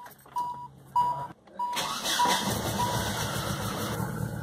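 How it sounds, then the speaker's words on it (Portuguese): Brand-new outboard-type motor on a fishing trip on the Piquiri River, cranking after a few beeps and catching into a steady rough idle that holds loud and close, with no talk. "Vamos ver o motor zero bala."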